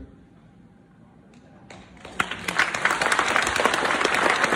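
Audience at a talk on cell prevention and food breaks into applause: near-silence with a few scattered claps, then clapping swells quickly into full, sustained applause that keeps building to the end.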